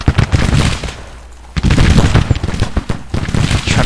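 Skirmishers fire muskets in a GTCW '61 Union campaign battle, sharp cracking volleys and scattered shots popping close and loud, with a brief lull before another ragged burst of fire.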